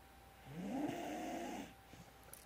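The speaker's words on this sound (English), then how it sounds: "That's the little guy you hear snoring while I'm trying to create art up here" A dog snoring in one long, rasping breath lasting about a second, fairly close and quiet, followed by soft breathing sounds.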